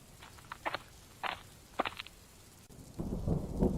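Cartoon rain and thunder: a few short bursts of sound, then a heavier low rumble rolls in toward the end, all fairly faint.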